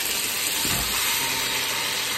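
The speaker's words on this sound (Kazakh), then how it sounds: "Қыздырған майымыздың үстіне етімізді саламыз." A steady, loud sizzling hiss of meat frying in hot oil for pilaf, continuous and close, with no voices.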